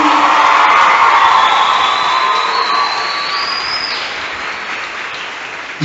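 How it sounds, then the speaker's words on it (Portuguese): At a religious gathering, a congregation bursts into loud, dense applause mixed with cheering and whoops, a full crowd roar that tapers gradually over several seconds. "dá uma salva de palmas para Jesus"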